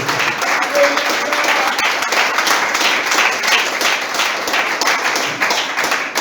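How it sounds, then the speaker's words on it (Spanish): A church congregation applauds God during a Spanish-language service, a dense, steady wash of many hands clapping that fills the whole stretch with slight swells, and a voice may be faintly mixed in. "Aplaudo a Dios."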